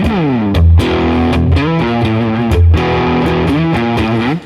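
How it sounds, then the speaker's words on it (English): Loud electric guitar riff with full gain distortion, thick chugging chords and sharp stops, playing continuously with no voices. "then you just let it rip with the full gain distortion"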